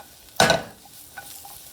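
A pat of butter hits a hot pan of shallots and mushrooms for a seafood Alfredo, giving one short, sharp sizzling burst that fades quickly to a faint crackle with a few small clinks.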